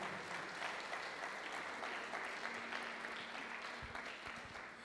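A church congregation claps together in sustained, even applause for the whole stretch. It sounds moderately distant and fairly soft, with a faint low hum underneath.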